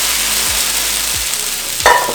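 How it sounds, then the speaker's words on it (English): Loud, steady hiss of parboiled potatoes sizzling in spluttering hot oil, with a few low knocks and a brief clatter near the end. "and it should sizzle as you coat them on all sides with the fat."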